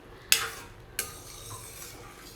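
Pasta stirred in a pot on the stove for a red sauce: two quick knocks of a utensil against the pot over a soft bubbling background.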